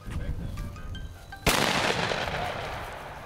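A single loud shotgun blast during quail hunting in Georgia goes off suddenly and close, followed by a rolling echo that fades slowly, after faint voices and background noise beforehand.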